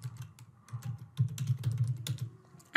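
Computer keyboard typing in a short burst, a quick run of close, distinct clacking keystrokes with brief pauses, heard alone.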